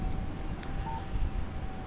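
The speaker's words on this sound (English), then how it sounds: "Text message from Barry." A short electronic beep chimes once as a mobile phone text message alert in the video game Alan Wake, faint against steady low wind-like rumble.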